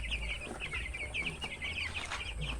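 Young broiler chickens being raised for market cluck and cheep continuously in a busy flock, a steady chorus of overlapping calls at moderate distance with no talking.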